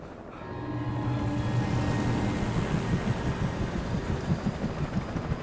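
Helicopter in the video game Alan Wake, a throbbing rotor pulse swelling in and holding steady with a low hum and rhythmic beating, fairly faint.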